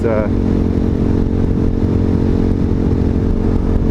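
A Hawk 250 motorcycle being ridden on a morning ride gives a steady, loud engine drone mixed with wind rush, while a rider talks over it throughout.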